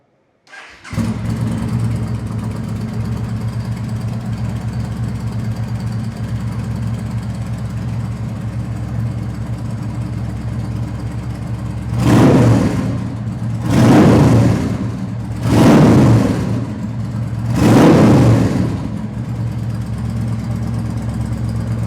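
A 2012 Yamaha Stryker motorcycle with its stock Cobra exhaust starts up and idles with a steady low rumble, then four separate throttle blips rise and fall in a regular rhythm, loud and close, with no talk.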